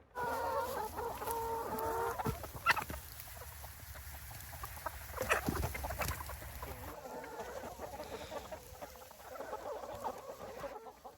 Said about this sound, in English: But these are some happy chickens right here.